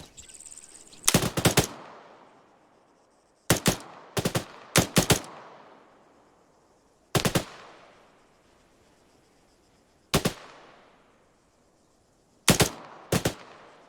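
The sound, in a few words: machine gun fire in video game ARMA III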